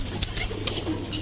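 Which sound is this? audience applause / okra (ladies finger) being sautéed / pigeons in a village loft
pigeons in a village loft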